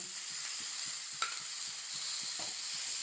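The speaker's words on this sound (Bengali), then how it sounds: "এবার আমি মটরশুঁটি আদা আর কাঁচা লঙ্কার যে পেস্টটা করে রেখেছিলাম সেটা দিয়ে দিলাম" Paste of peas, ginger and green chili frying in hot oil in a pan: a soft, steady sizzle with faint clinks of a stirring spoon, quiet and continuous, without talking.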